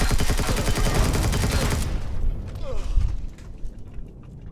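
Rapid automatic gunfire shooting enemies in Empyrion on hard mode, a dense loud burst for nearly two seconds that cuts off, followed by quieter scattered mechanical clanks and faint distant shots.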